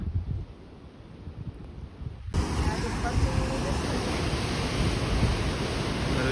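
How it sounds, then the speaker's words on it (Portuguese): Pulo do Lobo waterfall on the Guadiana pouring between rocks, a steady broadband rush of water that swells sharply louder partway through as the view shifts closer, with wind buffeting the microphone. "o outro ponto de vista da cascata, que ela vem correndo por aqui, pelo meio das pedras"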